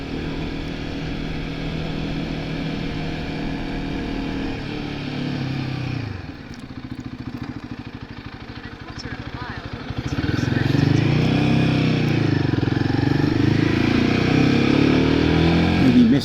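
A Royal Enfield Himalayan 450 motorcycle on a test ride revs and shifts through the gears, its engine note dropping, then climbing strongly, with wind rush and a rider's voice talking over it.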